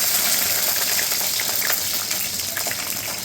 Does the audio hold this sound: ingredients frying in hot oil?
yes